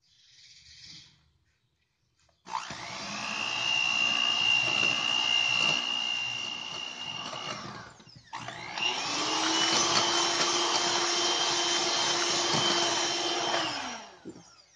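An electric hand beater whirs loudly and steadily while whipping ice cream mix with condensed milk, running in two long bursts separated by a brief pause, with a short quieter buzz before it starts.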